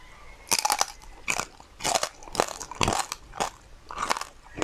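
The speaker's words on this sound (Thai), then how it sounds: "หนังหมูกรอบๆ" Loud, close crunching bites into crispy pork rind, about seven sharp crackly bursts in a steady chewing rhythm, with no talking.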